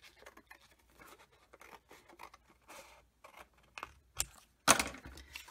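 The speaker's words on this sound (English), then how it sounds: "Okay, so now I can just cut across this." Scissors snip across a sheet of paper in a string of quick, close cuts, ending with a louder, crisper snip.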